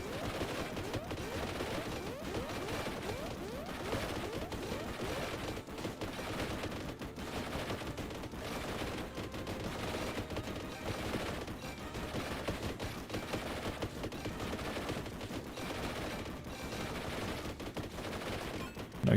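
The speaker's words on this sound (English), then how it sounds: "Oh my god, we have artillery coming in already." Artillery and gunfire in the shooter video game Boltgun 2, a dense continuous barrage of rapid shots and blasts at moderate level, relentless with no pauses.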